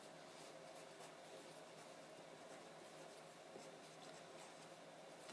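A marker or pen writes on a classroom board, giving a faint, continuous scratchy rubbing that runs steadily for several seconds with no voice over it.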